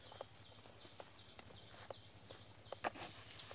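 Water buffalo walking over ground while bamboo shoots are foraged, giving faint, irregular clip-clop hoof steps at close range with no talk.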